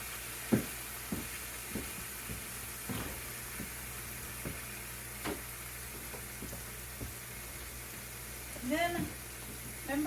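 Ham frying in a skillet gives a quiet, steady sizzle under light kitchen noise, with a few soft clanks and short bursts of nearby talk.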